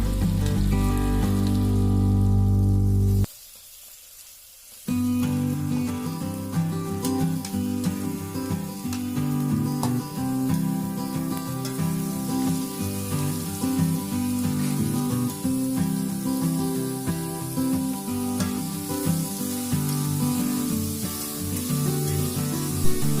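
Onions sautéing in a pan for Kerala-style beef curry, a dense steady sizzle and crackle running loud throughout, broken by a brief quieter gap near the start, with no talk.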